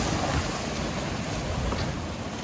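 Ocean waves washing against the Guánica seawall in the rough aftermath of Hurricane Beryl, a steady broadband rush of surf mixed with wind buffeting the microphone, loud and continuous throughout.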